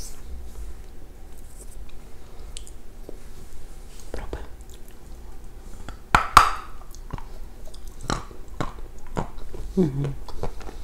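Close crunchy chewing of dusty persimmon fruit, with soft bites and wet crunches that build after a quiet start, and a few brief whispered words.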